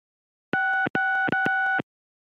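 A telephone tone from the PC adventure game Gabriel Knight: Sins of the Fathers sounds in three clean, steady electronic bursts with short breaks between them, with no other sound.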